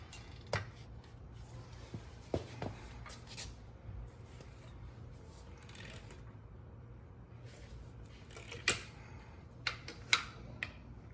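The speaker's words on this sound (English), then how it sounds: "Now it's time to torque the torque converter bolts to 50 foot-pounds." Sparse, faint clicks and ticks from a wrench torquing torque converter bolts to 50 foot-pounds on a 6L80 transmission being mated to a Texas Speed 427 engine for a G8, spaced irregularly over a quiet workshop background.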